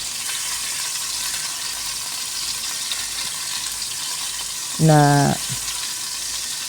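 Salmon sizzling steadily in a frying pan, a constant close crackle throughout, with a short scraping clatter near the end as a silicone spatula flips the fish and a brief spoken word.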